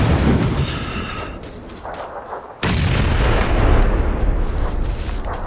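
Grenades detonate in a first-person shooter game, giving heavy, booming blasts with rumbling debris: one long roar, then a second sharp, loud burst that keeps rolling to the end.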